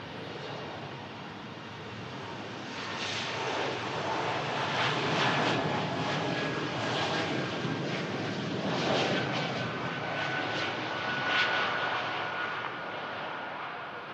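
A KLM Embraer E2 jet takes off from Manchester Airport for Amsterdam Schiphol, giving a sustained, fairly loud engine roar that builds and holds steady, with no voices over it.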